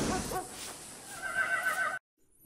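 A horse in Red Dead Redemption 2 whinnies at a stable, a single close, shrill neigh that rises and trembles before cutting off into silence, followed by a faint thud.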